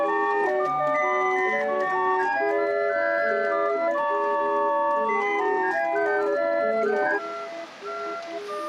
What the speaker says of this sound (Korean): 이 배럴 오르간에는 8개의 곡을 담을 수 있다고 한다.